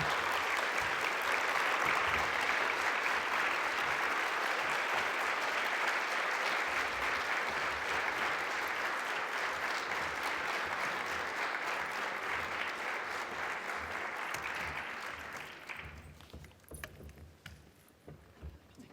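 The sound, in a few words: audience applause after a conference lecture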